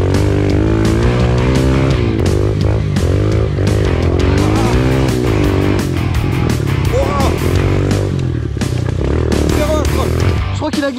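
Motorcycle engine and exhaust on a long race circuit, loud and continuous, rising and falling in pitch as the rider shifts through the gears, with wind buffeting throughout.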